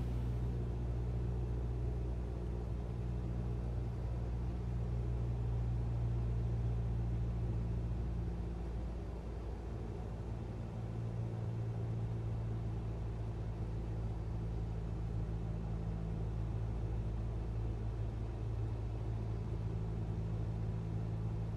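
Steady low drone of a light aircraft engine at reduced throttle in a flight simulator during a VFR approach to an uncontrolled field, a continuous even rumble holding for the whole stretch with no voices.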